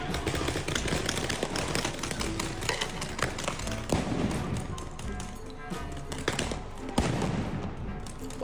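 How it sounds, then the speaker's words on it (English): A dense, relentless barrage of air strike explosions, booms and sharp cracks overlapping with no pause, loud and echoing throughout. "That's a lot of explosions."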